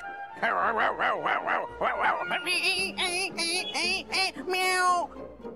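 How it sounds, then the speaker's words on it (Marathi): Excited talking gives way to a burst of close, loud, high-pitched dog barks and yips in quick succession. "माझ्या मागे कुत्रे लागले"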